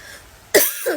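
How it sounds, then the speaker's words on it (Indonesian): A single abrupt cough from someone with a cold, close and alone after a quiet pause, followed by a lighter throat sound. "Sorry ya, saya batuk, pilek."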